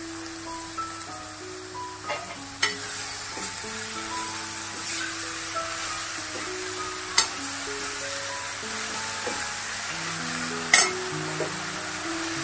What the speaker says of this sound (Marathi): हलवून व्यवस्थित फोडणीमध्ये घ्यायची